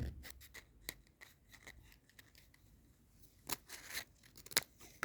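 Scissors snip a false nail several times up close, sharp crisp cuts with irregular pauses, a louder cluster of snips near the end.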